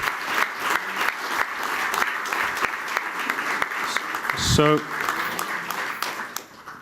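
An audience breaks into applause at a logo unveiling for Events Kingdom, loud dense clapping with sharp individual claps standing out, while a voice speaks briefly over it and the applause fades toward the end.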